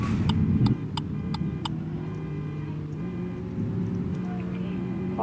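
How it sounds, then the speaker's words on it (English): A car engine idles low and steady while the vehicle is being parked, with a few short clicks near the start. "Let's park our car up."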